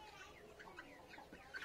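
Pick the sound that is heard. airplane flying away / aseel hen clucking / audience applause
aseel hen clucking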